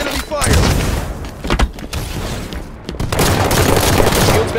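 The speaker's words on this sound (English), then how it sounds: "Watch the enemy fire." Enemy gunfire in a Halo 5 match rattles in rapid bursts and booming impacts, loud and close, with brief gaps between volleys and game voice callouts mixed in.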